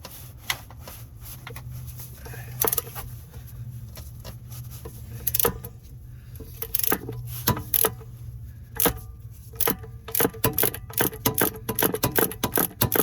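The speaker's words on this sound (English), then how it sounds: "That's why you need the extended ratchet." An extended ratchet works a tight front brake bolt on a 2009 Hyundai Sonata, giving irregular bursts of sharp clicking over a low steady hum, close by and without speech.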